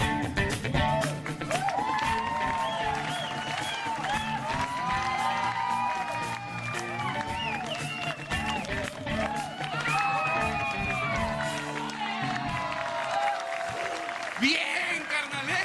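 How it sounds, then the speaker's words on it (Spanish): A comedy show audience claps, shouts and whistles loudly and continuously, with whoops and sharp whistles rising above the sustained crowd noise. "ustedes aplauden, gritan y chiflan bien fuerte"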